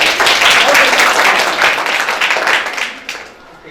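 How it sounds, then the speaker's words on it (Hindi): A group breaks into loud, dense applause that carries on for a few seconds before tapering off. "इनके लिए जोरदार एक ताली होनी चाहिए।"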